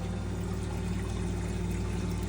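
Water flows steadily through an Ice-O-Matic ice machine after maintenance and a filter change, a continuous close splashing rush with a low mechanical hum underneath.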